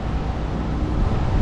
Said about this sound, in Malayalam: ശക്തമായ കാറ്റ്.